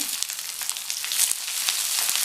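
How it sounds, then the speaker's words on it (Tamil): Chopped onion sautéing in a pan with crushed garlic and dried chili, a steady bright hiss and crackle of hot oil running throughout, close and unbroken, with no voices. "சேர்த்துட்டு இந்த வெங்காயத்தை கொஞ்சம் வதக்கி விட்டுக்கலாம்"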